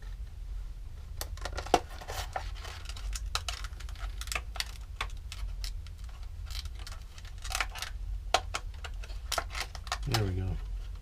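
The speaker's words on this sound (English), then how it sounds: "Just scoring, not trying to cut through." A knife scoring a clear plastic canopy for a Guillow P-47 model aircraft, giving sharp, irregular clicks and scrapes up close, with steady low background hum beneath.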